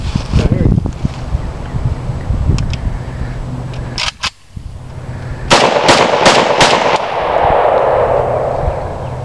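An AK47 rifle firing Chinese ammunition outdoors cracks out a couple of sharp shots, then a quick string of four or five loud reports that echo off into the distance, with people talking around the shooting.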